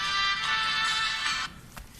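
A judge's phone ringtone sounds in a courtroom, a bright, fairly loud tune playing for about a second and a half before cutting off to quiet room noise.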